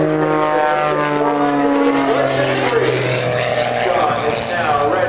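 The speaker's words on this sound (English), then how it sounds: "Now it's Sean pushes over and rolls his way down to Airshow right" A propeller aerobatic airplane performs at the EAA Oshkosh AirVenture 2008 airshow, its loud steady engine drone shifting in pitch as it pushes over and rolls down, close and dominant throughout.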